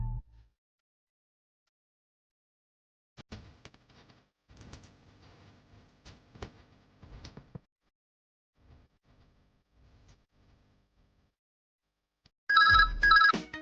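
A telephone rings in a hotel room as someone calls reception, a loud bright ring burst at the end after quiet, scattered movement and soft sounds.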